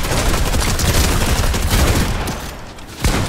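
Gunfire in a shooter video game: loud, rapid volleys of shots crack close by and blur into a dense burst, easing briefly before a final sharp shot near the end.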